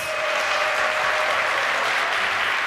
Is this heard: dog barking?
no